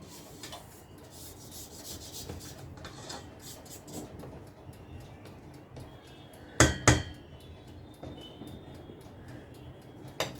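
A spatula scrapes around a mixing bowl of carrot cake batter in a soft, continuous rubbing, with two sharp knocks against the bowl near the end.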